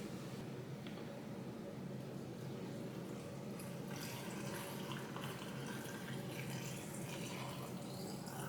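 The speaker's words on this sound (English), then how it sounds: "So now we're going to pour our brine over" Brine pours into a jar packed with whole dill pickles for fermenting, a soft continuous trickling wash of liquid that stays steady and fairly quiet throughout, with no talking.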